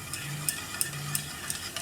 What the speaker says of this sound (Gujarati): એકદમ આ રીતે મિક્સ કરી લેવાનું.